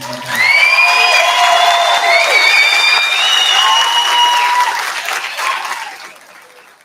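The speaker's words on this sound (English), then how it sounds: "Please give Missy Young a round of applause." Applause at a high school commencement ceremony in Middleburgh: a crowd claps loudly and steadily for several seconds, with a few whoops, then fades out.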